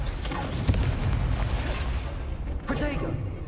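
An Incendio fire spell in Hogwarts Legacy bursts with a few boomy, crackling impacts over a dense combat rumble. A voice speaks briefly in between.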